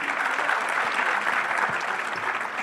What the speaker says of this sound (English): des applaudissements plus nourris pour le panel, s'il vous plaît